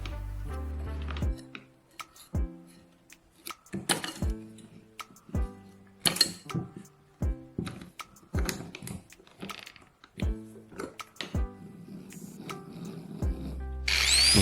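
An angle grinder fitted with zip ties in place of its disc, cutting grass, gives intermittent bursts of whirring and rustling broken by short pauses, close and fairly loud.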